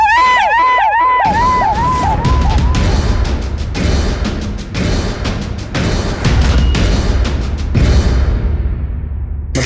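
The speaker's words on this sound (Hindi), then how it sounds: "तभी अचानक गोली चलने की आवाज आई, और वो भी 2 बार" Two gunshots ring out in a tense crime drama scene, sharp loud cracks cutting through a dense dramatic score with booming hits and crowd-like noise, followed by further heavy impacts.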